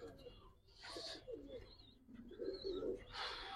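Giribaz and coloured pigeons coo in soft, throaty bursts close by, several calls overlapping with faint chirps, in a busy setting with some background voice.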